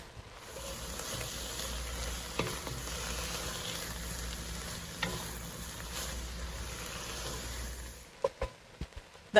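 Onions sweat in a soup pot for French onion soup, giving a soft, steady low sizzle with a few faint stirring knocks. A handful of sharper clatters follow near the end.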